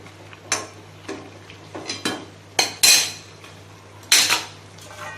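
Tomatoes cooking down for a chicken gravy are stirred in a metal pot. Several distinct scraping and clanking bursts of a spoon against the pot are spaced a second or so apart, close and fairly loud, over a faint low hum.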